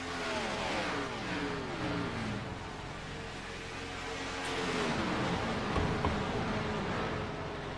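A pack of race cars circles the oval at Chicagoland in an iRacing sim race, a faint, continuous drone of engines rising and falling as they sweep through the corners.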